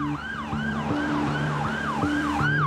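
An ambulance siren wails in a steady repeating rising-and-falling cycle, moderately loud, with a low vehicle rumble beneath and no talk.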